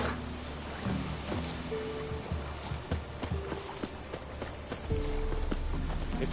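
Hoofbeats of the horse Roach galloping in a Witcher video game, a steady rhythmic clip-clop running throughout over ambient game sound.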